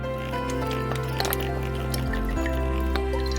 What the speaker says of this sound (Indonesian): Tuang minyak ke atas penggorengan.